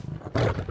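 A tiger roars in the video game Enshrouded, one loud, close, rumbling burst lasting under a second after a quieter growling lead-in.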